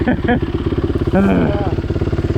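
The Honda CRF450L dirt bike engine chugs loudly and rhythmically close up while riding, with a brief voice rising over it partway through.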